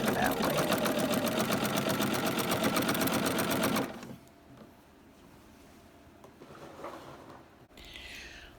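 A sewing machine stitching a fabric table runner runs in a fast, steady, close mechanical whir for about four seconds, then stops. Quiet handling noises follow, with a voice speaking briefly.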